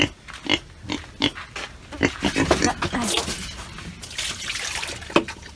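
A pig grunts and slurps noisily while eating, with wet sloshing and gulping sounds close by and a few sharp snorts.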